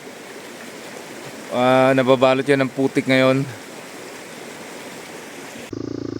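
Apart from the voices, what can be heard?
river water flowing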